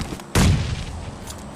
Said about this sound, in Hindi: सामने वाली टीम अंधाधुंध नेट बरसाने लग जाती है हमारे ऊपर